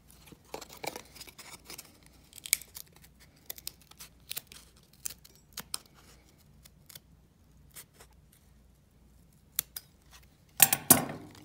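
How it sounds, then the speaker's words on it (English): Scissors snip through material during precise trimming of a door piece, giving a string of short, crisp cutting clicks and rustles at close range, scattered irregularly and ending in a busier flurry of snips. "I'm going to try actual scissors here, since I think I can be a little bit more precise with those."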